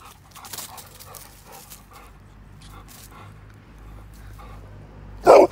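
A dog whimpers and pants in a home setting while a person talks to it, with a short louder burst near the end.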